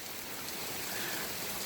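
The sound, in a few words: pouring rain outside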